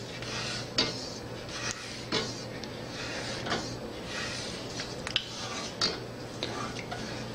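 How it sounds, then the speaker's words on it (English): A spatula stirs a thick gummy mixture in a pot, giving a steady scraping and sloshing with repeated light knocks against the pot's sides. "Oh yeah, that's a lot of stirring."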